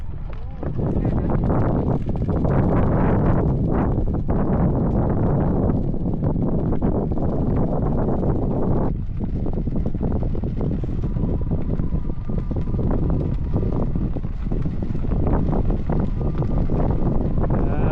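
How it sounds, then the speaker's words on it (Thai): Strong wind buffets the microphone at the Mekong riverside, a steady loud roar that runs throughout with voices faintly underneath. "ลมแรง"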